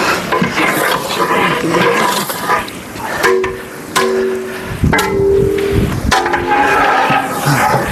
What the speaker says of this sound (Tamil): நம்ம இப்போ தக்காளி போட்டு வதக்கிட்டு இருக்கோம்